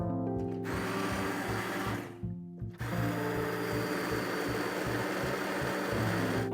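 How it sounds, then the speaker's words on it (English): A blender blitzes cooked lentils until smooth, a loud steady whirring motor drone that cuts out briefly and then starts again, close by with no talk. "So yeah, literally just blitz this until smooth. So you can use a hand blender or a stand blender."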